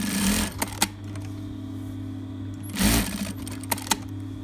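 A computerized sewing machine stitches fabric in two short loud whirring bursts separated by a quieter hum, with small mechanical clicks between runs of stitching.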